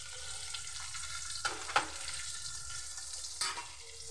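Onion sizzles in a hot pan for a shrimp masala, a soft continuous frying hiss broken by a few brief scraping stirs, close and fairly quiet with no talking.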